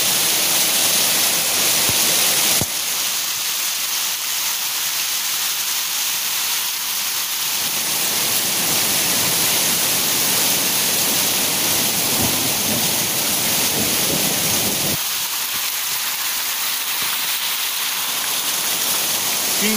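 Hailstorm in Araranguá, Brazil, with a loud, continuous hiss of hail and heavy precipitation pounding surfaces nearby, shifting in intensity as lower rumbling sections come and go.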